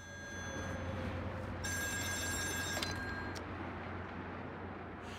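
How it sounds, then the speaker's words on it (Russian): A telephone rings in the video game Still Wakes the Deep, set on an offshore oil rig, with an electric bell trilling in bursts over a low steady industrial hum. "Еще кто-то звонит"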